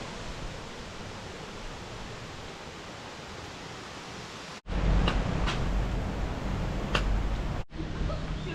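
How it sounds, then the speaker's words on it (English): Mino waterfall, a steady broadband rush of falling water that suddenly grows louder and nearer partway through, with a few faint higher ticks over the roar. "that's the Mino waterfall"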